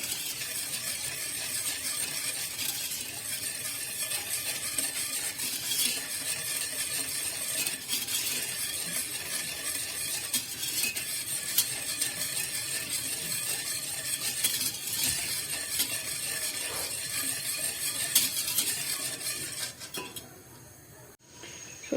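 A spoon stirs sugar into a pot on the stove, steady scraping and clinking against the metal over a sizzling background, continuous and fairly faint, with no talking.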